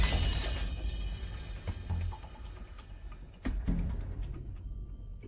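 A drinking glass smashes loudly, its bright shatter trailing into scattered tinkling fragments, with a second sharp crash and clatter of breaking glass a few seconds later.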